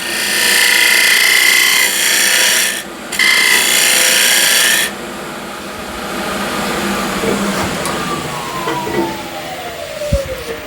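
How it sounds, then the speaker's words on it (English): Steady, harsh scraping as a scraper roughs out old window sill wood spinning on a lathe, loud and continuous for about five seconds with a brief pause, then a quieter whirring as the lathe spins down. "I can use square and scraper just to rough it out"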